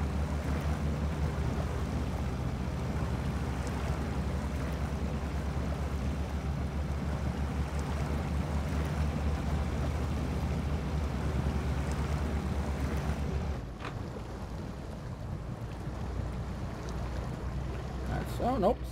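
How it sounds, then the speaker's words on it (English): A 1996 Jeep Cherokee pushes through a mud obstacle, its engine droning steadily with a rumbling, churning wash for most of the run before the noise drops off abruptly and turns quieter and thinner near the end. "it does flex the vehicle out while putting it through mud at the same time"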